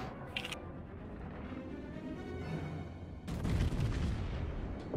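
Torpedo hits on a ship in a naval video game land as low, rumbling booms, building to a louder burst of impact noise partway through over a continuous battle background.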